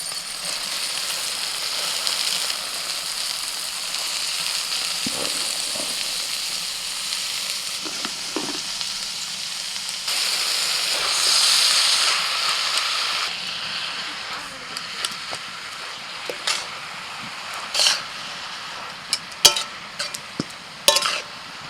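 Spinach tipped into a pan of frying peas and spices for a village-style matar palang, a sustained loud sizzle that swells briefly and then thins into scattered sharp utensil clicks and taps.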